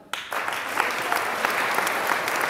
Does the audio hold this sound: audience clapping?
yes